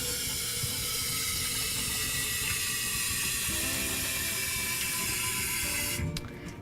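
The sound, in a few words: washing baby bottles with hot soapy water and brush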